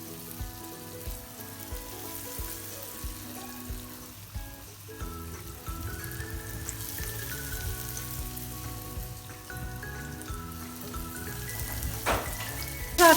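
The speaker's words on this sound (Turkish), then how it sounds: "Güzelce kızartıyorum." Steady crackling sizzle of chicken frying in hot oil, continuous and close, with faint background music and no talking.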